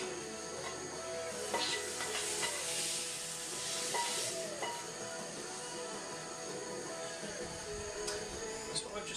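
Chorizo frying in a pan and pushed around, a soft steady sizzle with scattered scraping clicks from stirring, faint and close, with a voice talking over it.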